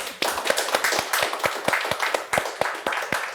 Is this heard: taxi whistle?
no